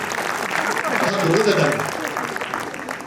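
A crowd at a live poetry recital claps steadily throughout, broad and sustained applause swelling slightly in the middle, with a voice briefly audible beneath the clapping.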